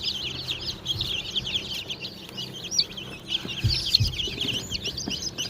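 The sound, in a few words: chickens and chicks clucking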